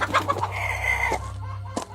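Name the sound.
chickens clucking under a house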